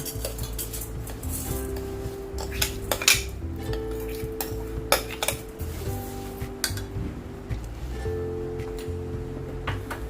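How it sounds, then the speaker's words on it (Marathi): A sugar and raw mango mixture is stirred in a wok on a gas stove. A metal spoon clinks and scrapes against the pan in irregular strokes, close up. A steady low hum and faint background music run underneath, with no speech. "असं मधून मधून ढवळत राहायचं"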